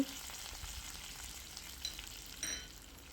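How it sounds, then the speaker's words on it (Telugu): Curry leaves crackle softly in hot oil, a quiet steady sizzle with a few small pops and a light stir. "కరివేపాకు కూడా వేసుకుని వేయించేసుకోవాలి"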